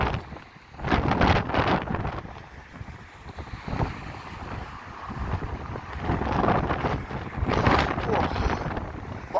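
Strong wind buffets the microphone on Blackpool promenade beside a choppy sea, a constant roaring rush that swells and eases, with waves surging underneath and someone talking over it.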